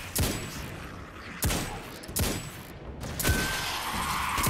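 Hand cannon fire in the video game Destiny 2: four sharp, heavy single shots spaced about a second apart, each with a short booming tail over faint background noise.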